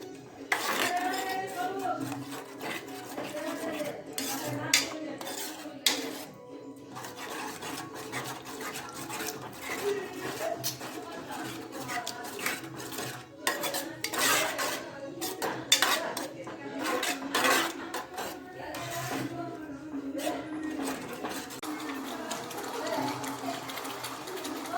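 Vegetable gravy being mixed for pizza: a spoon scrapes and clinks steadily against a pan or bowl while a person talks over the continuous stirring.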